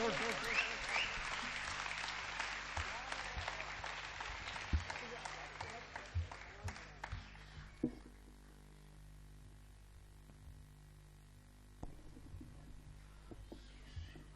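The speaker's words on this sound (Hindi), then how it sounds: "उनके सम्मान में अनवरत तालियां बजें।" Audience applause welcoming a poet on stage at a Hindi poetry gathering, dense clapping for the first several seconds that thins out and fades into quiet, with only scattered faint sounds afterward.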